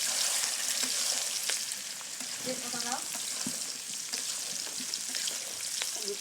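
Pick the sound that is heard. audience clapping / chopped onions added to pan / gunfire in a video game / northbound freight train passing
chopped onions added to pan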